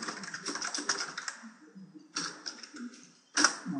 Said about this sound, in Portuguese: a gente precisa, claro, digitar a nossa lista de contatos, colocando o nome, o nome completo nesse caso